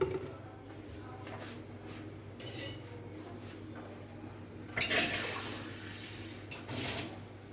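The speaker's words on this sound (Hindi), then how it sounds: "मिर्चें डालने के बाद इसमें मैं पानी डालती हूँ।" Water splashes into a metal pressure cooker in a few short pours while making beef shami kabab, with light clinks of metal and a faint steady hum between them.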